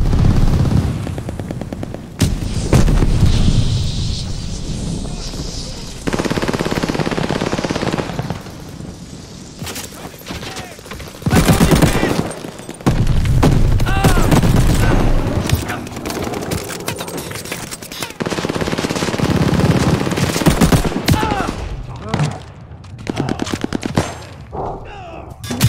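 Rapid automatic gunfire and heavy explosions from Call of Duty Vanguard multiplayer, with grenade blasts among loud bursts of shooting, brief lulls between volleys and a few clipped in-game voice callouts.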